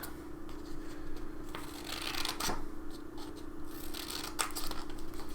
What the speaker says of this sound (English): we're going to cut a triangle shape right here along this fold